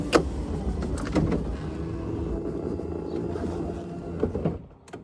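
Electric convertible top retracting on a Honda S2000 with an LS swap, a steady low motorized hum with a few mechanical clicks and clunks, near and continuous, ending as the motor stops.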